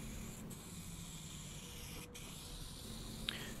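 An aerosol can sprays clear coat onto car paint, giving a faint, steady hiss that runs on with a couple of brief breaks and a small sharp hiss near the end.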